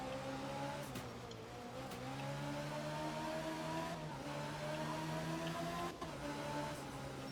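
A race car engine in a VR racing game drones steadily for seconds, its pitch rising and falling through gear changes with brief dips at each shift, loud and continuous with no talk.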